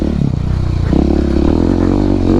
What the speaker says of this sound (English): Going off-road with a 700 Supermoto on the winter.